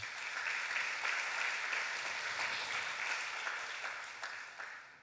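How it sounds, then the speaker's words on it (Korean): Sustained applause from a congregation at a Sunday church service, even and continuous, moderately distant and slowly fading toward the end. "박수 좀 한번 쳐주시지 말입니다."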